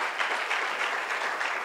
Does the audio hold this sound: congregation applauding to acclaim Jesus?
yes